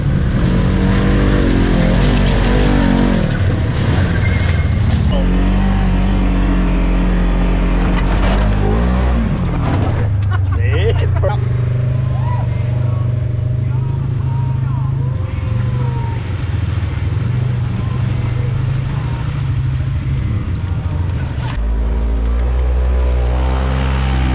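Polaris General 1000 side-by-side in two-wheel drive struggling for traction in snow, its engine droning and revving loudly and steadily throughout, close by, with a brief shift in pitch midway.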